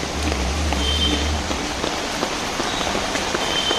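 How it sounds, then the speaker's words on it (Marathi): Rain falls on a street market in Dadar, a steady close hiss of drops striking surfaces. A low hum sits underneath at the start. "पाऊस पण आहे"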